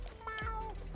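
Gary the snail from SpongeBob gives a single short, clear cat-like meow, close and alone.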